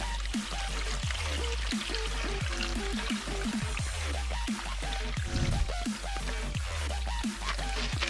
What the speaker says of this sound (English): It's like a little mini waterfall.